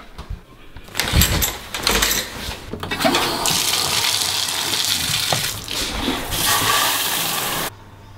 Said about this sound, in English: So I'm gonna go hop in the shower.